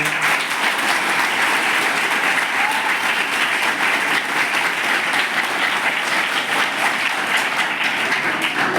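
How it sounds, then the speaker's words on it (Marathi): Loud, sustained applause fills a school hall for a visiting lady governor, many hands clapping in a dense, even roar that holds steady throughout. "जोरदार टाळ्या"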